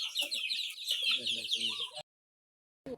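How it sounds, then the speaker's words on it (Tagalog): A flock of chickens clucks busily and close by, a dense stream of overlapping clucks and squawks that cuts off abruptly, then a brief burst returns. "There's so many chickens."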